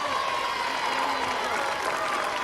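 A crowd at the 1986 London Marathon cheers and applauds runners in a continuous, dense wash of sound, with a commentator talking over it.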